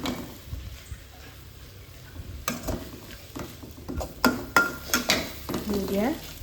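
Mie goreng noodles stir-fried in a pan with a splash of water, sizzling steadily while a spatula scrapes and clinks against the metal in irregular bursts that grow louder toward the end.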